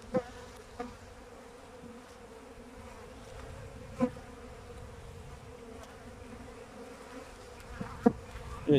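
Honey bees hum steadily around an opened hive, a continuous close buzz with a few louder passes and light knocks from handling the frames.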